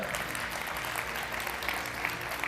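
An audience at the Celaleddin Ökten awards ceremony applauds as a special award recipient is called to the stage, a dense, steady clatter of many hands clapping together without a break.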